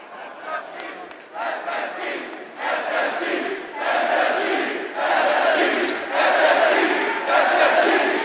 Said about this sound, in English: hearing a team that's been eliminated chanted in the crowd?